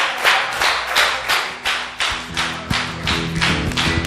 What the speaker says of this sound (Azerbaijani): Vətənimi alqışlarla yola salırıq.